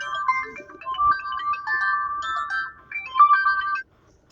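A mobile phone rings with a customer's call in a ride-hailing taxi, a close, clear melodic ringtone playing for nearly four seconds before cutting off.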